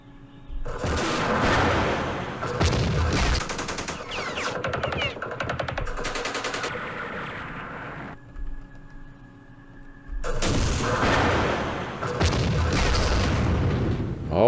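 Artillery and gunfire in the video game Campaign Series Vietnam, heavy booming blasts layered with rattling machine-gun fire in two long loud stretches, separated by a quieter gap with a lone thud.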